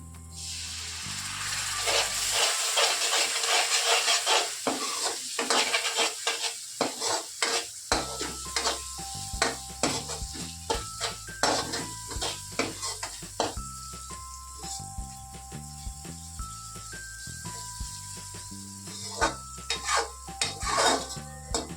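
Spices and water cook in oil in a pan for a Kathiyawadi pigeon pea curry, bubbling and sizzling while a spoon repeatedly scrapes and stirs, with scattered metallic clinks throughout.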